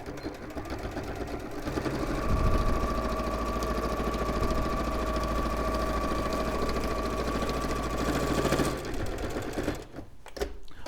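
A sewing machine runs in one continuous stretch of stitching while sewing a sashiko bag, a close, steady whirring hum that stops near the end.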